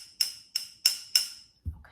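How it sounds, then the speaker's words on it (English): Metal silverware taps a drinking glass four times in a steady rhythm, each strike a bright, ringing clink that decays quickly, followed by a brief low thump at the end. "take our metal silverware and Tap the glass"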